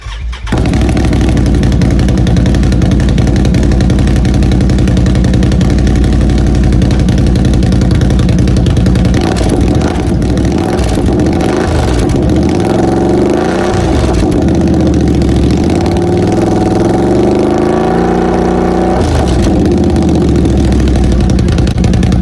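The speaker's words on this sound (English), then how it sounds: "I'll go ahead and start it and let you guys hear the exhaust." A Can-Am XMR 850 ATV engine starts up and idles with a throaty exhaust rumble, revving a few times before settling back to a steady idle.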